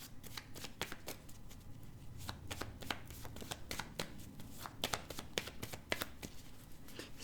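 Tarot cards are shuffled by hand for a reading, a quiet, close run of crisp riffling flicks and soft slaps that repeat in quick irregular bursts with no talking.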